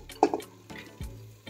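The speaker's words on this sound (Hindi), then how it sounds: "मैंने पानी भी ऐड कर दिया है" Water poured into a pan of toor dal being cooked for Udupi-style sambar, a short splashing pour with a brief drip-like burst standing out against quiet kitchen background.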